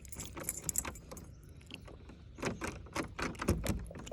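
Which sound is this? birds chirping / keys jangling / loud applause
keys jangling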